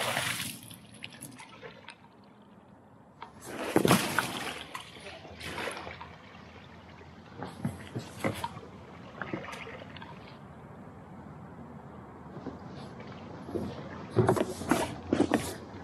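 Water is splashed and poured in bursts from a bucket inside a small inflatable boat, rinsing it, sloshing and trickling between throws, with someone talking quietly in between.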